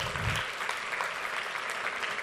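Church congregation clapping in praise, a continuous, fairly even wash of applause at moderate level with no talk over it.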